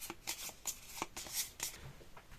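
Playing cards are shuffled by hand for the Spires End Hildegard card game, a quick series of crisp riffling bursts and soft taps, close and alone.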